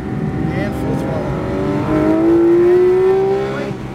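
A Porsche GT3RS on the Atlanta Motorsports Park track pulls hard at full throttle, a steady close engine roar rising in pitch midway, with a voice talking over it.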